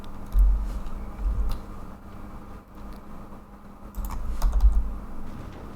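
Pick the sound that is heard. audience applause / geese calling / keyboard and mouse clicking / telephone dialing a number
keyboard and mouse clicking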